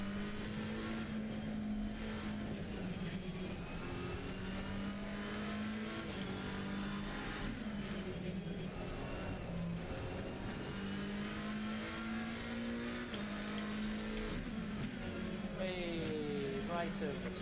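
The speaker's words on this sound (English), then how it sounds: "I love the noise the car makes down there." Race car engine in Assetto Corsa Competizione, a loud, continuous whine rising and dropping through repeated gear changes and corners, with someone talking over it at times.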